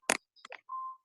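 A phone gives a short electronic chirp followed by a steady sustained beep, quiet and close, in a home setting with no talking over it.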